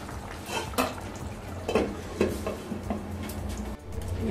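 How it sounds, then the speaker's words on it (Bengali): A lid set onto a cooking pot of cauliflower and rice on the stove, giving a few sharp metallic clanks and scrapes spaced over the seconds, close and fairly loud, with no talk. "এখন আমি আবার ঢেকে দেবো"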